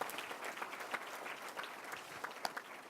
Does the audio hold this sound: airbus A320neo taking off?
no